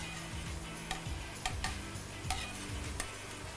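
Aromatics begin frying in a pan for La Paz batchoy, giving faint, scattered crackles and ticks over a low, quiet sizzle, with no talking.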